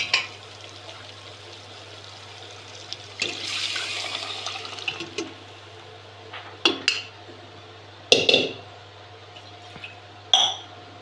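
Cooked lentils are poured into a pot of sambar in a kitchen: a wet, sloshing rush followed by several sharp metallic clinks of a spoon against the pot over a low steady hum, with no talking.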